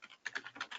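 A brief flurry of keystrokes on a computer keyboard as a search term is typed, quick irregular taps close and fairly quiet, with no voices.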